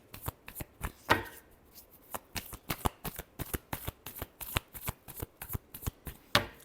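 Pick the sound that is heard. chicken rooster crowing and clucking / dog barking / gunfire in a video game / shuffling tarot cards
shuffling tarot cards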